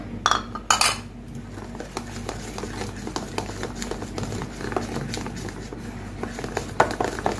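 A sugar and milk cream mixture is stirred continuously in a pot on a gas stove, a spoon scraping and clinking against the metal in quick irregular strokes over a low steady hum.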